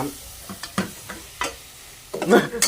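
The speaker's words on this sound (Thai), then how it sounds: "นี่นะฮะเราก็จะคั่วไก่ให้พอสุกเนาะ" Close-up stir-frying of chicken in a pan: a series of scraping, clattering strokes over a soft sizzle, with a louder burst of sizzling at the end.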